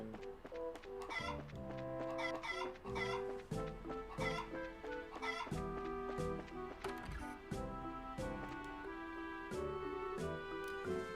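Chickens in the video game Trails in the Sky cluck and squawk in a busy, continuous flurry of short, repeated calls, with no talking over them.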